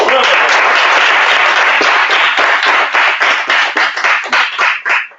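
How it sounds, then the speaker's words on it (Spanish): Applause from a round-table audience at a game jam event, loud and close at first, then thinning into scattered individual claps that fade out toward the end. "Un aplauso."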